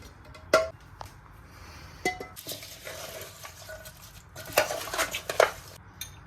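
Mango chicken pickle being mixed in a metal pot or bowl, with scattered close clinks and scraping knocks of a spoon against the vessel, louder bursts near the start and the end.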